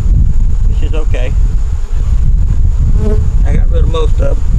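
Honey bees buzz around an open hive during a frame inspection, a steady close insect drone with wind noise across the microphone while someone talks over it.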